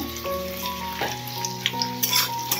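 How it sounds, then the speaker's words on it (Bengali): Onion sizzles and crackles in hot oil in a pan, a steady close frying hiss with scattered pops and a few stirring clinks, over a faint tonal hum and no talking. "এখানে পেঁয়াজটা ভাজা হতে থাক"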